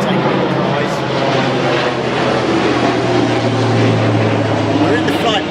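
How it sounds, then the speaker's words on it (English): A propeller airplane passes overhead in the flight path near Southampton Airport, a steady loud drone throughout beside a river while someone talks over it. "excuse any planes that fly over"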